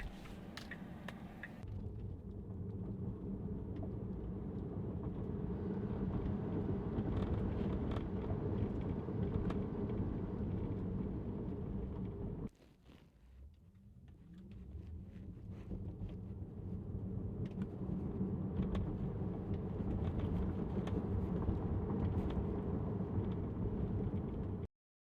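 Steady low road and wind noise inside a Tesla Model 3 cruising at around 60 mph, a continuous broadband rumble that briefly drops out midway before building back to the same level.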